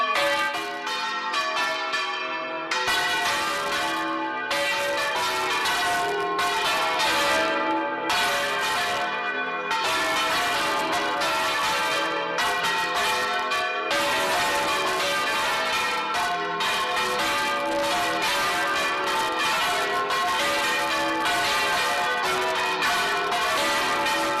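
Several large church bells swing fully around and ring together in a loud, continuous peal at a church of Saints John, overlapping strikes ringing out with brief pauses between bursts.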